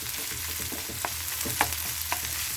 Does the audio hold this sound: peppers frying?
yes